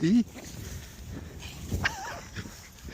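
A wet dog coming up from a hillside moves around nearby with a whimper and small rustles, while a person talks over much of it.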